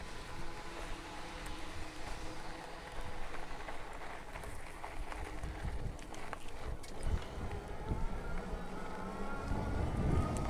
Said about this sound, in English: I'm sure you can hear that wind